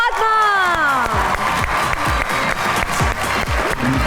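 Studio audience applause welcoming guests onto a talk show, a steady wash of clapping under a host's voice that slides and fades as the clapping goes on.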